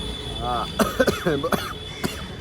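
A man with a cold, sore throat and fever coughs a few times, sharp close bursts mixed in with people talking.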